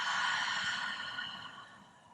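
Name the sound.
deep exhale through open mouth in yoga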